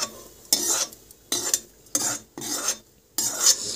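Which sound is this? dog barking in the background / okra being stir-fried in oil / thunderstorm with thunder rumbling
okra being stir-fried in oil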